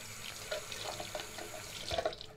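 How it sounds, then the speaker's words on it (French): Water runs from a tap into a sink while a face is rinsed during an evening skincare routine, a steady close splashing with small uneven surges and no voice. "Donc on va rincer."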